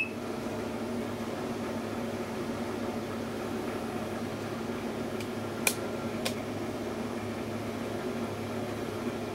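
Panda PAN50SW portable automatic washer hums steadily after being powered on, a constant motor drone with two brief clicks partway through.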